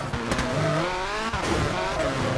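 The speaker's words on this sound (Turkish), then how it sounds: "Tabii burada dediğimiz gibi drift olayı olacak da çok pis kayıyor" Rally car sliding through a drift in the WRC 4 racing game, engine droning with harmonic whine while tyres scrub and skid, loud and continuous with faint background talk.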